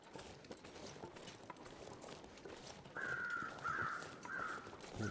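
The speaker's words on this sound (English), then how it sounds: "The crows are out." Crows cawing in the video game The Long Dark, heard over a faint ambient background; three harsh caws come in the second half, fairly quiet, with no talking.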